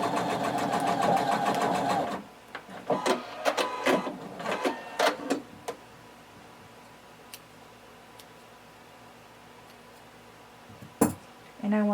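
A sewing machine stitches waistband pieces together at a 5/8 inch seam allowance in a short, dense burst of about two seconds, followed by scattered clicks and handling sounds and one sharp knock near the end.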